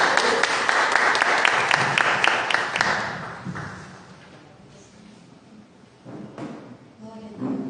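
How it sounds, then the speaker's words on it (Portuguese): A church congregation claps in praise during a worship service, a loud burst of applause for about three seconds that tapers off, followed by scattered thumps and a voice. "Querido, aplauda o Senhor."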